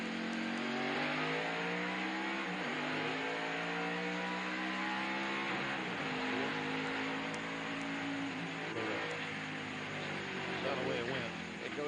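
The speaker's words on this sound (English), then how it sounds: "Let's listen in as Jeff Burton comes up to speed" A NASCAR race car engine revs up on a restart and climbs steadily through the gears, loud and sustained, with a commentator's voice faintly underneath.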